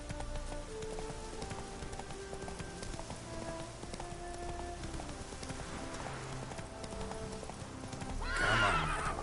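Hooves of a horse clip-clop steadily in The Witcher video game, joined by a close, loud neigh near the end, with rain pattering and game music underneath.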